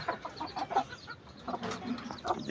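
Several naked-neck hens cluck softly and intermittently close by while laying their first eggs, with scattered short calls overlapping in a quiet setting.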